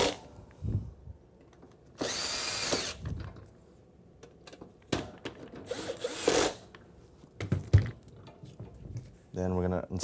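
During a heating element replacement, a power drill drives screws into parts in several short, loud whirring bursts between stretches of talking and clanking handling noises.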